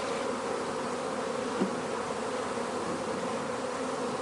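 Honeybees buzzing steadily as a hive is tipped onto its side, a dense continuous hum with no voices.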